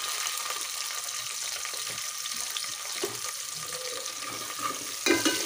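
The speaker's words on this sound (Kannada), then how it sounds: "ಈಗ ಈರುಳ್ಳಿನ ಚೆನ್ನಾಗಿ ಫ್ರೈ ಮಾಡ್ಕೋಬೇಕು" Chopped onions with curry leaves fry in a pan, producing a steady bright hiss of oil that runs throughout, with a slightly louder clatter near the end and no talk.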